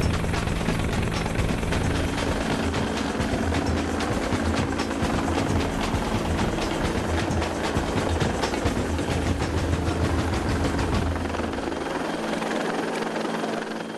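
A rescue helicopter hovers over a cruise ship in wind, its rotor a steady, loud, rhythmic chop with a droning engine that holds evenly for the whole stretch and eases slightly near the end.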